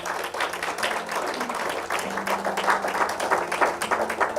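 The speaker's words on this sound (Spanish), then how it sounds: "Dele un fuerte aplauso al Señor." Congregation in a church claps during a service, a rhythmic, fairly loud applause with individual claps standing out over a low held musical tone.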